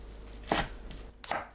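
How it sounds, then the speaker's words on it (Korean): A knife chops green onions on a cutting board for a spinach and enoki mushroom side dish, giving two or three crisp, close thuds spaced about a second apart. "파를 썰어주세요."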